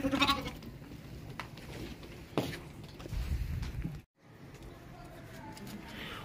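A young goat kid, held tight while trying to escape at a Qurbani livestock market, bleats in short cries amid shuffling and nearby crowd noise.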